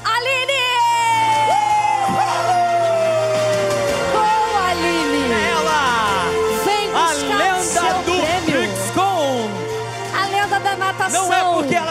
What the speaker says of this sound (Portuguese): por favor, recebam com palmas no tapete vermelho, Aline!